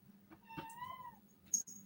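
A house cat meows once in a drawn-out rising and falling call around dinner time, faint against a quiet room with a few soft knocks afterward.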